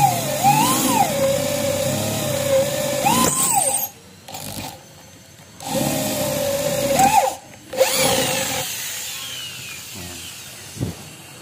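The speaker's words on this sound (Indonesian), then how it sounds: "Ternyata masih bisa untuk melubangi besi habis dari beton tadi ya teman-teman" A power drill bores into iron, with concrete dust still left on the bit from earlier drilling, whining loudly in repeated bursts, its pitch wavering under load, separated by short pauses and a few knocks, close to the microphone.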